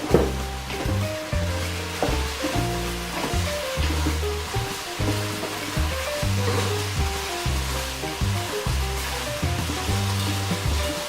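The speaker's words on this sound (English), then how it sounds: "we've browned this pork and given it a tiny bit of caramelization" Pork browning in a pan for adobo, a broad steady sizzle and hiss running under loud rhythmic background music throughout.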